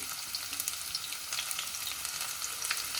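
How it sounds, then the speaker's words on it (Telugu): Thinly sliced onions fry in oil over a medium flame for a mutton curry, giving a continuous bright crackling sizzle with faint pops and stirring, close and steady, with no voices. "కొన్ని సన్నగా తరిగినటువంటి ఆనియన్స్ వేసుకొని బ్రౌన్ కలర్ వచ్చే వరకు మీడియం ఫ్లేమ్లో వేయించాలి"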